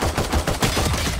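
Rapid gunfire in the video game Valorant sounds as a dense run of sharp, loud shots in quick succession, close and punchy, with no speech.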